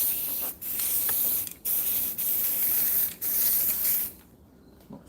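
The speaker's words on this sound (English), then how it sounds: "Spray a bit in underneath there" An aerosol can sprays in several long, loud, close hissing bursts with short gaps between them, applied to the interior trim of a classic Mini, before the spraying stops and quiet follows.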